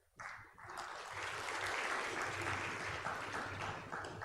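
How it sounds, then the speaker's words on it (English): Sustained audience applause at a prize distribution function in an auditorium, a dense clapping crowd starting abruptly and holding steady to the end. "this clap is not sufficient because of the efforts that they put in."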